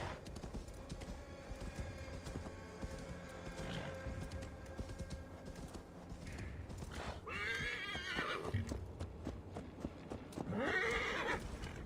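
Hooves clip-clop at a steady gallop from a horse in Assassin's Creed Valhalla, with two sharp neighs rising near the end over quiet game ambience.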